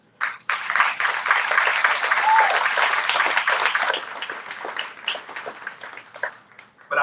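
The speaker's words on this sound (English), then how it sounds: "you too are should be receiving a round of applause" Audience at a college honors convocation breaks into sustained, dense applause that swells quickly, holds for several seconds, then thins out into scattered claps.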